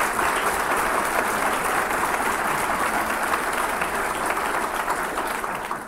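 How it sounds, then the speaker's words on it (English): A room of audience members claps for the panelists at a food insecurity discussion, dense sustained applause at an even level throughout before fading slightly at the end. "let's give a round of applause to our panelists"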